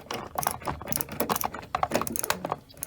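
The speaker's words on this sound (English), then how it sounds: "take the screwdriver" A screwdriver driving a screw into a Velux window blind bracket, heard as soft, close, irregular scratchy clicks and creaks that continue steadily over a few seconds with no talk.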